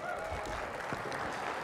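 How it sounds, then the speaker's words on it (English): A convention audience at a fairs and exhibitions association gathering applauds in a continuous, even wash of clapping, moderately distant and sustained through the brief moment. "give yourselves a big round of applause"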